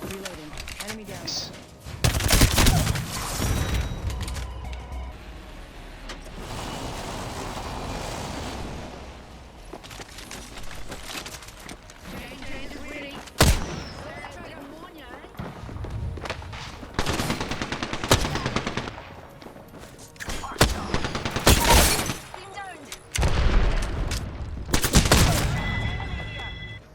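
Video game gunfire in Apex Legends comes as repeated loud bursts and single sharp shots over about half a minute, spread between quieter stretches of game ambience.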